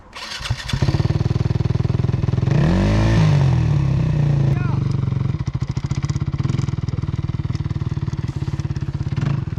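Motocross motorcycle on sand, loud and close, its engine revving up and down in rising and falling surges before settling into a rapid, steady throb.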